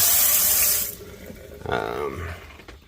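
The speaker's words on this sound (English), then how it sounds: "Got hot and cold running water." A pump-fed faucet in a campervan kitchen runs water into the sink, a steady hiss for about a second before cutting off, followed by softer splashing and gurgling as the flow trails away.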